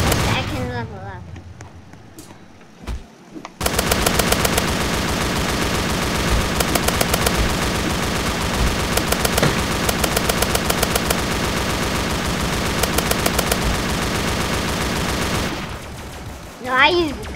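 Gunfire in the Roblox game Zombie Rush: after a short quiet opening with talk, a long, loud, continuous machine-gun stream of rapid shots runs for about twelve seconds, then stops, with talking at the start and end.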